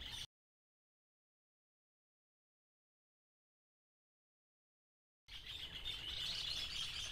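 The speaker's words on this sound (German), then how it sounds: "da streiten sich ja auch die Vögel, wie man hört" Birds chirp and squabble outdoors on a rural property with citrus trees in Paraguay, a busy burst of calls rising after a long stretch of silence.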